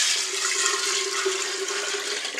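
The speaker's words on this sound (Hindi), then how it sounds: "अभी हम पानी डाल रहे हैं लगभग 8 कप" About eight cups of water pour steadily from a vessel onto dal and rajma in a pot for dal makhani, a continuous close splashing rush lasting a couple of seconds with no talking.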